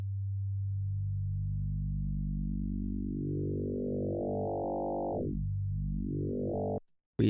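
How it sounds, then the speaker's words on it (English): A Waves Flow Motion FM synth oscillator hums as a pure tone that glides steadily upward while modulation adds growing wobble and harmonics, then swoops down and back up before cutting off. "We already start to hear the waveform distorting by the modulation"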